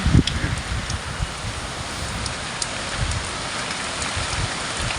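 Heavy rain from Cyclone Remal pours steadily onto rooftops and leaves in a dense, unbroken roar, loud and close, with no voices over it.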